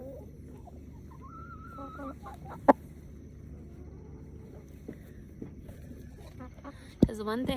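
A rooster being held down clucks softly and intermittently in a quiet room, with a few sharp louder clucks standing out, while a person talks nearby.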